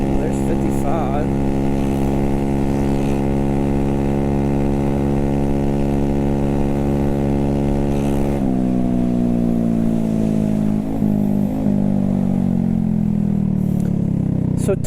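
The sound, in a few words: scooter engine riding at top speed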